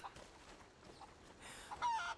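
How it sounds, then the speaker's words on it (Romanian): Chickens clucking in the video game Rise of the Tomb Raider, a few quiet scattered clucks and short calls, faint and brief. "Am zis găini în prostie pe aici."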